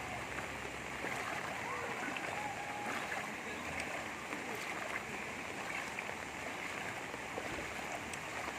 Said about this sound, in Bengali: জলের টানও আছে, প্রচুর টান।